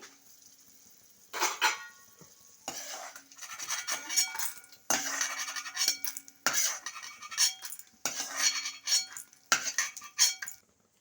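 Metal spoon scraping and clinking against a pan while fried green chillies and spices for a tomato-coriander roti pachadi are scooped onto a plate, in irregular bursts of scraping separated by brief quiet gaps, close and moderately loud.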